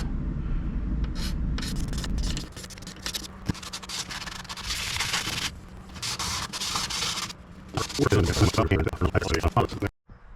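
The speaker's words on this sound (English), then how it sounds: "Gonna do a little more scraping here" Lacquer is scraped by hand on the headstock of an Ibanez acoustic guitar during a repair, making close, rough rubbing and scratching strokes in uneven bursts. There are low background sounds under the strokes.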